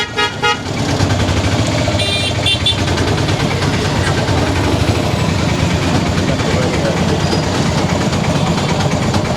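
A tuk-tuk engine runs steadily amid chaotic Indian street traffic, a continuous loud rumble with horns honking around it and a voice speaking over the din.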